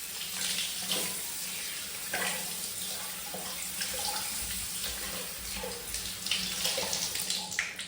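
Paneer is rinsed under a running sink tap at home, a steady close hiss and splash of water with small irregular splatters as it is handled, no talking.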